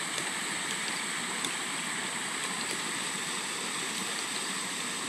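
Water pours steadily over a wooden board with holes and into a ram pump pipe, producing a continuous even rush with faint splashy ticks throughout.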